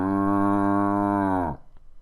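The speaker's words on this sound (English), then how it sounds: "Let's go ahead and do a cow sample." A single long, loud cow moo with a steady harmonic tone, held for about one and a half seconds before cutting off abruptly, followed by quiet farm background.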